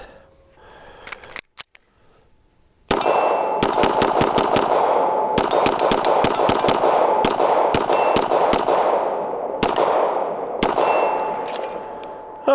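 A Dan Wesson DWX pistol is fired with iron sights, a couple of isolated shots first, then a fast string of sharp, loud cracks at an uneven rhythm, each with a metallic ring.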